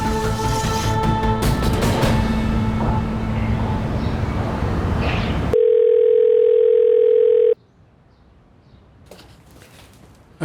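Telephone ringing unanswered, a steady electronic tone sounding loud and close for a couple of seconds after a stretch of busier dramatic sound, then cutting off into near quiet.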